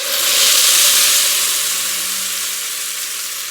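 Tomato sauce hits a hot pan for a Mexican shell soup (sopa de conchas), bursting into a loud, bright sizzle that swells quickly and then eases to a steady, slightly quieter hiss.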